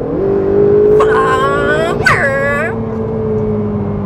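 A Ferrari 488 engine drones steadily, then rises sharply twice in quick revs as power goes on and off, with a person talking over it.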